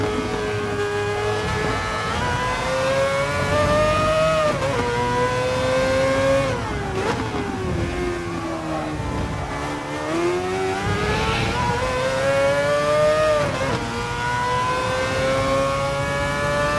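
A Mazda 787B Le Mans race car in Gran Turismo Sport lets out a loud, high engine wail that climbs and falls through the shifts and lifts, with no voices.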